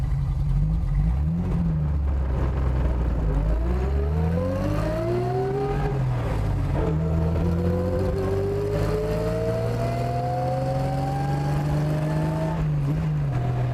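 A Mercedes-Benz 300 SL Gullwing with a 3-liter engine and straight-cut gear transmission drives steadily, engine note climbing through the gears with a whining gear drone, loud and continuous from inside the car.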